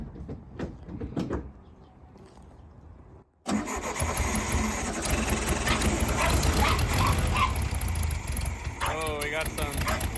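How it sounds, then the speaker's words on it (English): A 1968 VW Beetle with a fuel leak: a few scattered clunks and a pause, then the engine cranks and catches abruptly into a loud, steady, rough idle that continues to the end, with people talking over it. "we're gonna start the engine and see if it leaks anymore"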